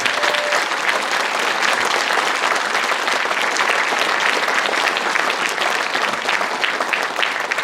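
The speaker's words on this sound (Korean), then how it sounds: "박수 부탁드립니다." An audience applauds at a ceremony for the inauguration of the Sejong City sports council chairman, with dense, sustained clapping that stays loud and steady from start to finish.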